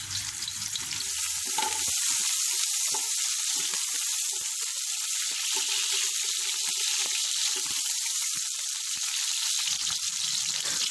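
Onions frying in hot oil for chicken tikka pulao give a loud, steady, close sizzle that fills the whole stretch, with a few soft stirring knocks early on and no voices.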